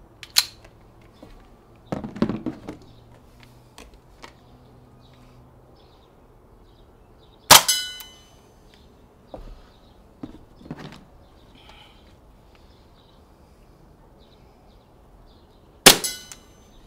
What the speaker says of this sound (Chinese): 那我们后面的话就看他剩几发，我们后面就打几发，来吧，把它打完